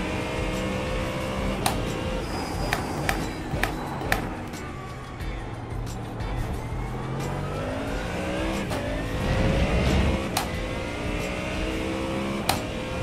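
A race car engine roars steadily in iRacing, revving up and down with gear shifts and occasional sharp clicks, loud and continuous with no talking.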